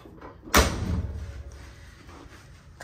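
Door of a 1987 Chevy 4x4 short bed step-side pickup truck shut once with a single sharp thud early on, followed by a faint rattle and quiet room noise.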